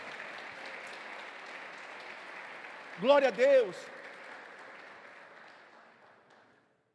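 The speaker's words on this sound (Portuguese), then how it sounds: "Aplauda o Senhor." A church congregation claps as a broad, steady wash that fades out toward the end, while a voice speaks briefly in the middle.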